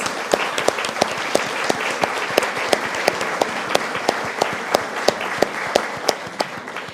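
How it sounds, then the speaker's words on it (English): Audience applause at an annual author event, a dense, steady clapping that fills the room, with sharper individual claps standing out near the front. No voices are heard over it. "Can you join me with a round of applause?"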